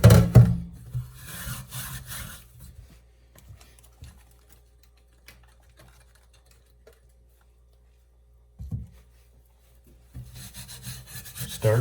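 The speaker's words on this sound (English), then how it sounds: "I'm just going to start scrubbing on this thing, and we'll see how much of that crud I can get off of the surface there" Scrubbing on a gunk-coated cast iron muffin pan, a close, steady rasping rub that fades to near quiet midway, then resumes loudly near the end.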